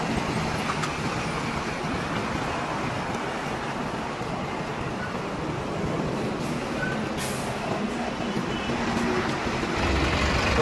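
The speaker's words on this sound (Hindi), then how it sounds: "गाड़ी स्टार्ट कर लेते हैं, निकलते हैं फिर धीरे धीरे" A loaded diesel truck hauling freight from Surat to Mumbai, its engine rumbling steadily and loudly for several seconds with a broad, even roar and a brief hiss near the end, with no talk.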